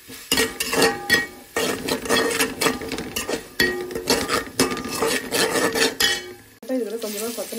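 Onions sautéing in a pan for chicken biryani, a loud stretch of scraping, stirring and clattering against the pan with a constant sizzle beneath, the busy stirring breaking off briefly near the end.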